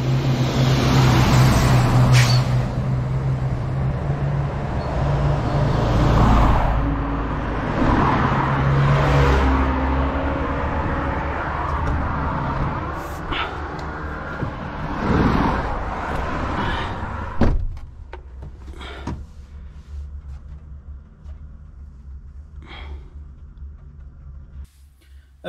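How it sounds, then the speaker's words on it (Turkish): Vehicle being boarded and driven off, with door clunks and slams and an engine rumble that continues, followed by quieter cabin sound and occasional sharp knocks. "Evet arkadaşlar, aracımıza bindik."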